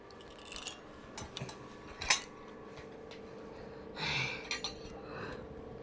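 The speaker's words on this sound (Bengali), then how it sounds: "দিচ্ছি তো ওই তো থালা থালা দিচ্ছি" Plates and utensils are handled and set down in a home kitchen for a meal, giving scattered clinks and knocks of varying loudness close by, with some breathing and rustling between them.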